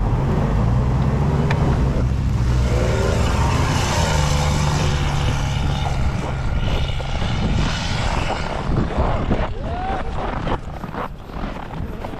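Car engine revving hard while stuck in deep snow, a loud continuous roaring drone that rises and falls slightly, with faint voices mixed underneath.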